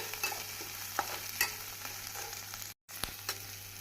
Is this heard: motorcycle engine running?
no